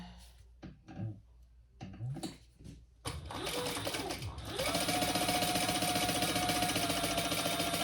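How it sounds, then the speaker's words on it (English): A sewing machine stitches fabric for a small sling bag, starting with a few short bursts and then running in a steady, loud, continuous whirr close by, with no talking. "we're just going to stitch that on"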